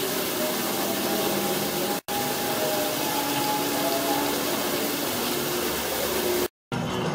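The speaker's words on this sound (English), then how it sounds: "Go behind the waterfall." A waterfall at the Knott's Berry Farm theme park pours in a loud, steady rushing roar heard close up, with two brief dropouts in the sound.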